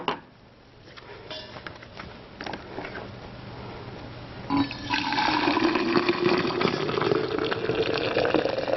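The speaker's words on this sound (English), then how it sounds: "I'm going to heat it up using freshly boiled water" Freshly boiled water is poured over a tin bar, starting with faint handling clatter and then a steady, close gush of splashing liquid that carries on to the end, with no talking.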